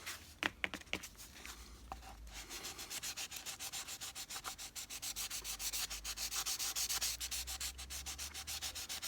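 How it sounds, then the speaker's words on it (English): Rapid rhythmic rasping of sandpaper rubbing against a hard stoneware pot, close up, with a few scrapes at the start. "to do the fine sort of sanding, it could take quite a while"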